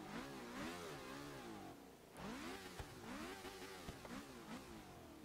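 A 1976 Lotus Indy car with a Ford DFV engine in the Forza video game revs hard and repeatedly, its pitch rising and falling in sweeping waves, loud and close throughout with no talk.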